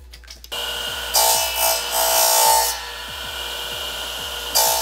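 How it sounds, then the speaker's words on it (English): A power tool cuts grooves into the inside of a PVC pipe used as a mould for homemade concrete weight plates. A loud, harsh grinding whine runs in bursts over a steady motor hum, then drops back and resurges briefly at the end. "we're gonna cut grooves on the inside of the PVC."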